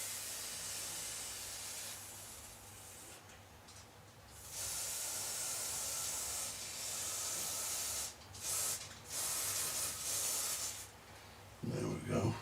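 Lubricant is sprayed onto the stuck mechanism of a Dansette Auto Conquest record player in several close, loud hissing bursts of varying length separated by brief pauses, with a voice speaking at the end.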